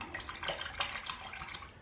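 A metal safety razor gets swished and shaken in water at a sink, giving continuous splashing and sloshing close up with small irregular surges, no voices.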